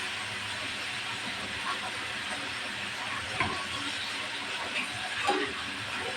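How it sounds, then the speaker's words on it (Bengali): Sliced bitter gourd fries in oil in a pan with salt and turmeric, giving a steady broadband hiss and sizzle throughout, with a few faint clinks and stirring sounds and no talk. "অল্প আছে করলাটা ভাজিয়ে নেব।"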